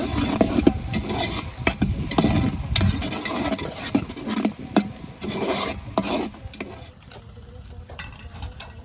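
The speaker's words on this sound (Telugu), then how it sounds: "ఇదైతే ఆయిల్లో చక్కగా బాగా ఫ్రై అయ్యే వరకు వేపుకున్నాం ఉల్లిపాయ పేస్ట్" Onion paste fries in oil in a big pan outdoors near a church while it is stirred and scraped. The strokes come as repeated rasping, with a soft sizzle underneath and a brief quieter stretch near the end.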